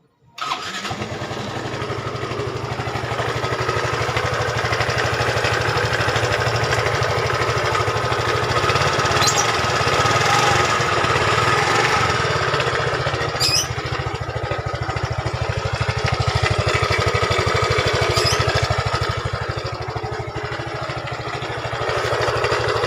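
A Yamaha Fino 125cc scooter engine, noted for a rough-sounding motor, starts with a brief crank and then runs at a steady, loud idle close by for about twenty seconds, alone without talk.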